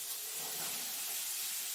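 Chopped apples sizzle in a hot pan as stuffing is sautéed, a steady, close, even hiss that holds without a break and has no talk over it.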